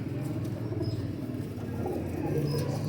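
Silver bajra pigeons kept as breeding pairs coo softly in a steady low murmur, with faint rustling and chirps mixed in close by and no talking.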